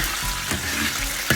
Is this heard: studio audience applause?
no